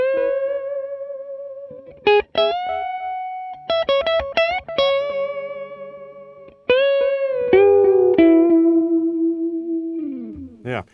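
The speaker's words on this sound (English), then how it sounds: "it's a delay that just sits behind. It doesn't get in the way." An electric guitar runs through a TC Flashback delay pedal on the DM-3 Plus TonePrint, playing sustained notes and chords with warm analog-style repeats trailing behind each one, loud and clear with no talking.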